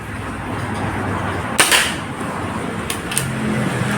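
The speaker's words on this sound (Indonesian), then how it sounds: "Tembakan pertama untuk turnamen dom." A Marauder air rifle fires a shot at a target, giving one sharp crack over steady background hiss, with a couple of fainter ticks afterward.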